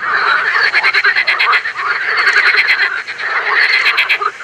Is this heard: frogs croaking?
yes